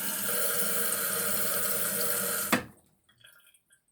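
Steady rushing water refills a toilet tank through a newly installed fill valve, loud and continuous, then cuts off abruptly with a clunk, followed by a few faint drips and trickles.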